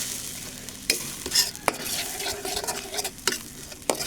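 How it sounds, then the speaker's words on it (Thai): Curry paste for a Thai pineapple and pork belly red curry being stir-fried in a pan, with a steady sizzle broken by sharp scrapes and clinks of the utensil against the pan at irregular intervals. "ก็จะผัดให้มันหอมๆสักหน่อยนะคะ"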